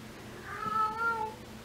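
A cat meows once, a drawn-out, wavering cry heard faintly in an otherwise quiet room.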